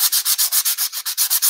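Wood being sanded by hand at a craft table, a quick steady back-and-forth scratchy rubbing of about a dozen strokes, close and loud with no voices.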